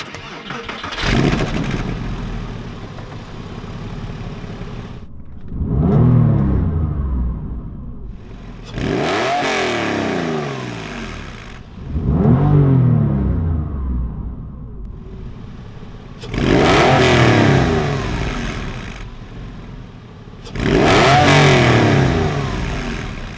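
A Porsche 911 engine turns over and catches, then revs in repeated loud surges that fall back between bursts. The sound carries a close, reverberant ring, as if echoing off walls in an enclosed space.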